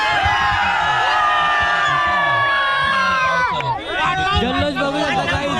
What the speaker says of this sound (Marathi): जल्लोष बघू शकता गाईज, जाऊ मोठे जल्लोष यांचा.